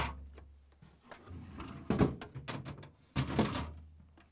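Drawers of a Samsung refrigerator pulled out until they stop, lifted at the front and slid free, giving a run of close sliding scrapes and several hollow plastic thunks and knocks, with no talking.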